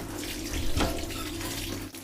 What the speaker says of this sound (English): My first shower on a train, and it's the Trans-Siberian.